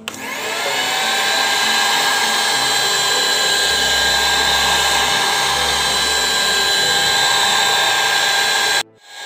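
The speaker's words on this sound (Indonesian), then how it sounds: "Jurus terakhir adalah pakai mixer." Electric mixer running at a constant, loud high-pitched whine while blending JADAM wetting agent, sustained for several seconds before stopping abruptly near the end.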